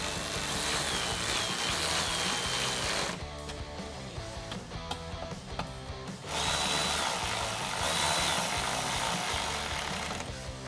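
A power tool whirs loudly and steadily while reinstalling two 7mm bolts on the rear diffuser of a 2016–2022 Camaro. It changes tone briefly in the middle, then resumes running at full speed.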